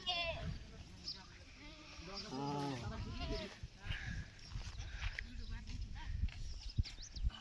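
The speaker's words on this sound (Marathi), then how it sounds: "बघू शकता मित्रांनो एवढ्या मेंढ्या आहेत. काही शेळ्या बिळ्या सगळं आहे." A large flock of sheep mixed with some goats bleating on a hillside, several loud wavering bleats rising over general rustle and movement, with someone talking throughout.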